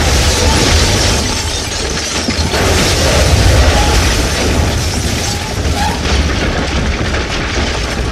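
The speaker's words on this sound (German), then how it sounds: "Eine zweite Explosion erschütterte das Haus." Explosion in a horror radio drama set in a house, heard as a loud, sustained rumbling blast with crackling, crumbling debris that fills the whole stretch without pause.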